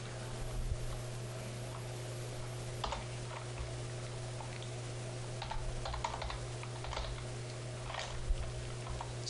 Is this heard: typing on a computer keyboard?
yes